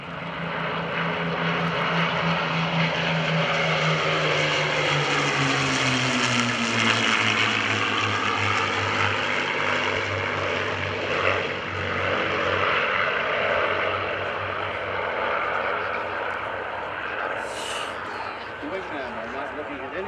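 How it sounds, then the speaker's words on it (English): A three-ship formation of North American P-51D Mustang fighters roars past at a World War II weekend airshow, a loud sustained propeller drone whose pitch sweeps down as the planes pass, then fades. "Put your cameras on the three-ship of P-51 Mustang."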